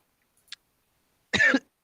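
A single person coughs once, sharp and close, after a faint click, with quiet around it.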